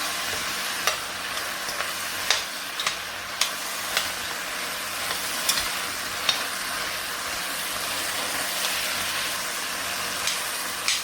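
Flour cooks in a pot with oil or fat for a stovetop beef stew, giving a steady, even sizzle and soft frying hiss with faint scattered ticks and pops throughout, no voices.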